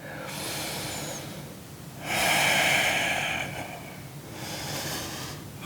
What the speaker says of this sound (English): And breathe. Couple more breaths.